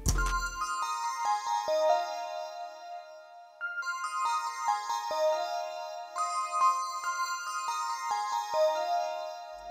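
Bright synth lead playing a repeating dreamy psychedelic melody, chorus and Valhalla reverb giving it a shimmering wash, steady stepped notes over about ten seconds, no voices.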